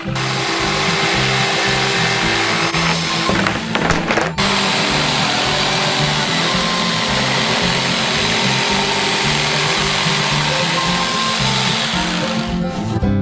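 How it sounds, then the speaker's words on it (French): An electric jigsaw buzzes loudly and continuously, with a brief stutter partway through before the steady cutting drone resumes. "Il reste à la découper avec une scie sauteuse électrique."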